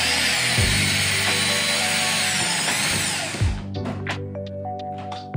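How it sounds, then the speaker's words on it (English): A power drill driving screws into a Birkenstock sandal fitted to roller skate plates whines steadily at high speed, then slows and stops, followed by a few short bursts and clicks of the tool. "it's not going any further than that with the drill"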